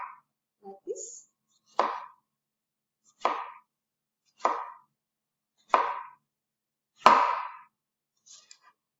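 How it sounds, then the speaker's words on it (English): A knife slices a Roma tomato into circles on a board, giving six sharp, evenly spaced chops about a second apart, close and clear against silence, with a few faint handling sounds at the start. "I'm going to just trim off that end and then just slice into circles like this"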